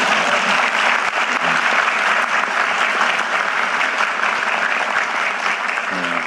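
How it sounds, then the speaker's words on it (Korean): An audience claps steadily and densely at a Jeju gathering attended by the South Korean president, loud and continuous applause with no break from start to finish. "박수도 한번 치시네."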